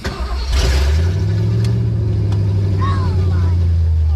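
Fox Body Mustang 5.0 with open long-tube headers cold-starting up close: a loud, rough V8 catch after a brief crank, then a steady, heavy burbling idle, with faint voices around.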